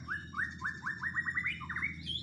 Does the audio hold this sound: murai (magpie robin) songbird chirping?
yes